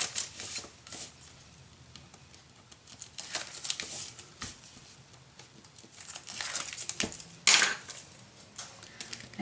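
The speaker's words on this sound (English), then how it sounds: "Peel this off." Backing sheet peeled off adhesive paper for a Halloween scrapbook mini album, close crinkling and rustling with intermittent tearing strips and one sharper rip near the end.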